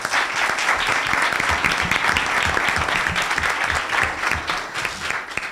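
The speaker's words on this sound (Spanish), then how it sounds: "un primer aplauso para recibirlos" Audience applause welcoming guests at an event, a dense, even wash of clapping from many hands, steady throughout with slight variation and no clear voices.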